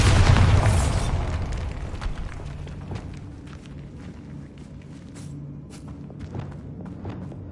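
The Bombarda spell in Hogwarts Legacy sets off a loud, close explosion that booms at once and then rumbles down into a long, fading tail of debris and settling noise.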